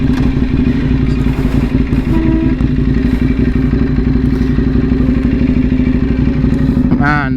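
A sport motorcycle, compared against a CBR 600, accelerates hard with a loud, steady, rattling engine roar held throughout, ending in a brief rising rev.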